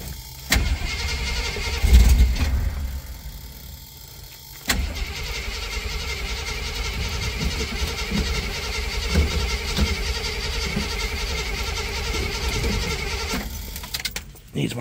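A Jeep J10 that has sat for nearly two years cranks, then catches and runs with a rough, uneven engine note, loud and close, with a short pause between attempts and faint bleating-like squeals over it.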